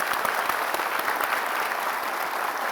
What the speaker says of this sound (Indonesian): kita kasih tepuk tangan Bang Joni